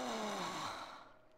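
A human voice imitating a loudly snoring Sims character from the 2003 GameCube Sims game, a single drawn-out, breathy, droning exhale that sinks in pitch and fades out.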